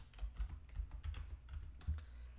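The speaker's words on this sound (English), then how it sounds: "So if I type in discounted" Close, quick typing on a computer keyboard: an uneven run of soft key clicks and thumps over about two seconds, with no voice.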